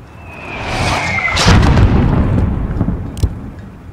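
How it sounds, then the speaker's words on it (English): Mortar fire in the video game Call of Duty Modern Warfare: a descending whistle leads into a loud, rumbling explosion that lingers and decays. A sharper crack is heard near the end. "There's still a mortar out there."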